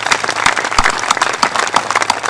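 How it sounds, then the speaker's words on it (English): A crowd outdoors at the unveiling of a renovated memorial sports field claps and applauds, a lively, uneven patter of many hands with sharp individual claps standing out, close and fairly loud. "So a round of applause for that partnership, please."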